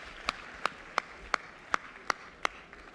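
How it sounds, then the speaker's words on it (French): At a real estate agency event, a sparse audience greets a veteran on stage with seven faint, evenly spaced claps that ring out one by one against a quiet room. "On l'applaudit."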